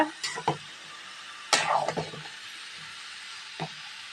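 Tempering for beetroot palya sizzles in oil in a pan, with a few sharp crackling bursts and stirring scrapes separated by quiet gaps, close and moderately loud.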